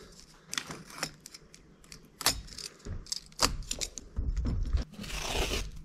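Drywall tape unrolled and pressed onto wet joint compound while repairing a vehicle dash, giving irregular close scraping, tearing and crinkling bursts with soft thumps, heavier toward the end, with no talking.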